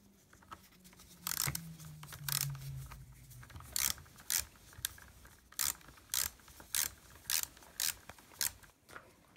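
Two nuts on the air filter of a Stihl MS 250 chainsaw being tightened with a ratchet, giving repeated sharp, rhythmic clicking strokes close up, about a dozen in evenly spaced bursts, with no talk.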